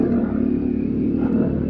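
A motorcycle engine labors steadily up a steep, winding road in Baguio City, a continuous close rumbling drone with a faint rattle, loud and unbroken for the whole moment.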